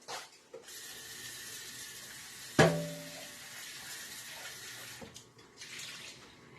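Tap water runs steadily into a pot being rinsed out in a kitchen sink, a continuous close splashing stream with a sharp clink of the metal pot partway through.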